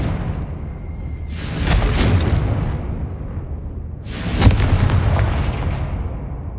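Two loud, booming blasts from the Confringo explosive spell in Hogwarts Legacy, each a heavy burst that rumbles and fades over about two seconds, the second stronger than the first, against a low background hum.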